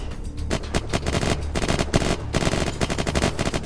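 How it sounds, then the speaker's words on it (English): Rapid automatic gunfire from the video game Unturned rattles in dense, close bursts almost nonstop, loud and without talk. "Them gunshots are so close."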